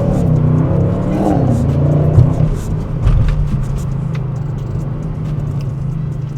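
A 2025 Audi RS6 Avant Performance exhaust with its valves fully open, revving loudly with a deep, throaty drone that swells and settles, close by and without talk.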